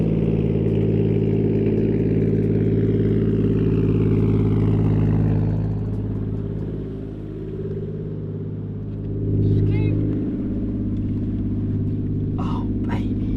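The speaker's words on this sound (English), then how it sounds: "we're gonna drive the Chaser there and take some tools" An imported Toyota Chaser car drives with its engine running, a loud low rumbling hum that eases off and swells again, with a few sharp clicks and clatters near the end.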